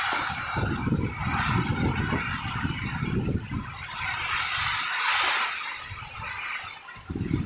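Heavy morning downpour drums on a tin roof while wind gusts. A dense, continuous hiss and clatter carries on without a break, with low gusty surges throughout.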